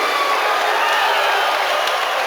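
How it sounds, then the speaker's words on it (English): Crowd applause and cheering after an armbar submission win in a regional MMA fight, a steady dense roar of clapping and whoops sustained throughout at close range. "Put a round of applause for Mike Farrow"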